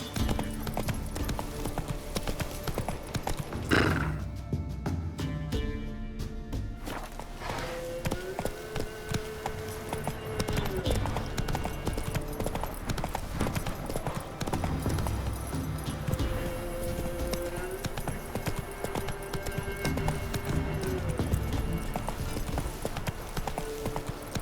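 A horse gallops in The Witcher 3 video game: continuous rapid hoofbeats over a steady game soundscape with faint background tones, medium loud throughout, with no clear neigh standing out.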